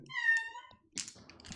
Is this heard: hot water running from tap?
no